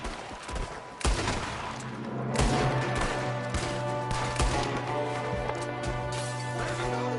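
Gunfire from the Western video game Red Dead Redemption 2: a dense exchange of loud, sharp shots, some in quick clusters and others spaced apart, over a steady low background drone with no talking.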